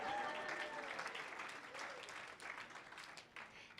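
An audience claps steadily through an ordination ceremony for new rabbis and cantors. The applause is dense and fairly distant, with a murmur of voices underneath.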